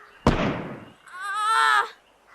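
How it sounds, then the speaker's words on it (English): A sudden loud explosion bursts out and decays within half a second, followed by a brief higher-pitched whine, an effect within a dramatised audiobook scene. "There was an explosion."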